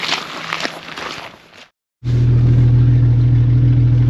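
A Jeep engine idles loudly and steadily, a deep continuous rumble that starts abruptly after a moment of silence, preceded by some faint background noise.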